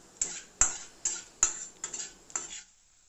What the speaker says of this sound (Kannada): ಇವಾಗ ಇದನ್ನು ಇನ್ನೊಮ್ಮೆ ಸರಿಯಾಗಿ ನಾವು ಸೌಟಿನ ಸಹಾಯದಿಂದ ಫ್ರೈ ಮಾಡಿಕೊಳ್ಬೇಕು